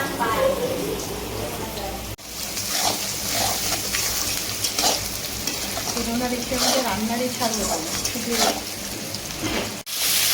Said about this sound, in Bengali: কড়াইতে তেল বসিয়ে তেলটা গরম করে আলুগুলো কিছুক্ষণের জন্য ভালো করে নাড়িয়ে নিল